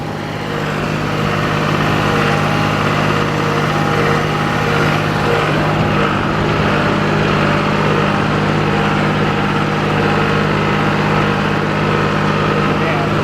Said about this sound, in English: Tractor's running great